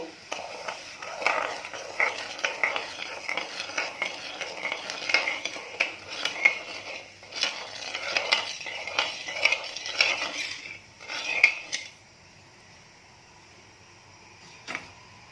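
A spoon stirring sugar and water in a pan over a medium flame to make syrup, with repeated close scraping and clinking strokes against the metal, then a quiet stretch with one last tap.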